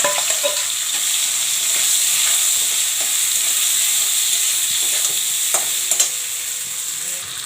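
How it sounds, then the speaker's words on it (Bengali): Katla fish head frying with leftover cabbage in a pan, a loud, constant hissing sizzle close by, broken near the end by a couple of clinks from a utensil. "কাতলা মাছের মাথাটা ভাজছি।"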